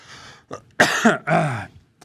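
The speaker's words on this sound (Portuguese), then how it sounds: "Vou tossir, só um instante." A man coughs about three times in quick succession, close and loud, with raspy throat-clearing bursts and short pauses between them, then falls quiet.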